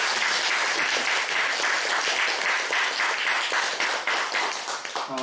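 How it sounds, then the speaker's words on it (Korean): A church congregation applauds to welcome a returning member during Sunday worship, loud, dense clapping from many people sustained throughout and tapering slightly at the end. "박수로 환영하겠습니다."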